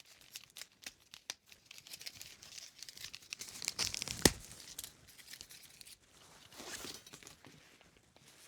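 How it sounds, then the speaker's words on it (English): Tape being torn and pressed down while taping the joints of a paper hat frame, a series of close crinkling, ripping bursts with one sharp tear in the middle and quieter handling after. "I'm going to tape this intersection as well."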